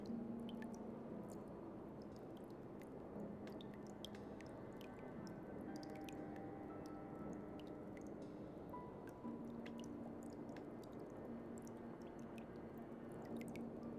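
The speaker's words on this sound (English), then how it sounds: "The water is rising faster now. It's flowing in from some unseen place" Water dripping and trickling in a flooding room in the video game Slay the Princess, steady wet squishing drips over a continuous low ambient rush, moderately quiet and unbroken for the whole stretch, with no voices.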